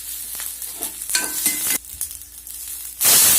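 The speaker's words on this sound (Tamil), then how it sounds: "கடுகு தாளிச்சிட்டு கொஞ்சம் உளுத்தம் பருப்பு, கொஞ்சம் கடலை பருப்பு, இஞ்சி துருவல் கொஞ்சம், பச்சை மிளகா ஒன்று அரிஞ்சு வச்சது" Mustard seeds, urad dal, chana dal, grated ginger and a sliced green chili tempering in hot oil for wheat rava idli: steady loud sizzling with seed pops and crackles, then a sudden louder burst of spitting near the end.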